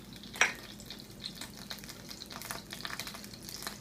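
Canned cannabis butter hits a hot pan with a sharp crackle, then settles into a soft, continuous sizzle with faint popping, close and fairly quiet, with no talking.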